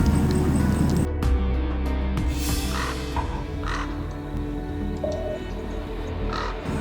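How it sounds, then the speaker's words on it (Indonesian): Many crows caw repeatedly at a middle distance over a low background rumble, with several separate harsh calls scattered across the scene. "Kok banyak burung gagak ya?"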